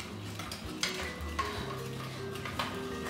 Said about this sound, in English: Make sure to mix that all together. Your mayo is going to look really chunky,